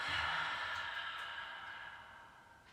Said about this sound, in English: Once more, in through the nose, and exhale.